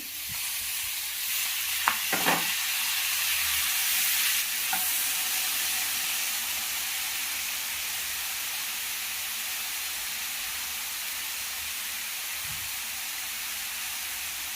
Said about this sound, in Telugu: కొద్దిసేపు ఫ్రై చేయాలి. ఇప్పుడు టమోటాలు వేసుకోవాలి.